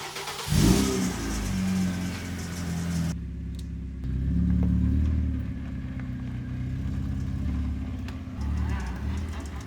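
A car fitted with a hybrid racing shifter starts and pulls away for a test drive around the block, its engine revving up and dropping between shifts, with a loud rumble close by and some talk.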